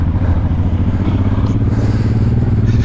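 Honda Transalp enduro motorcycle pulling away off-road at an enduro training park, a steady close engine drone with low rumbling throughout and no talk.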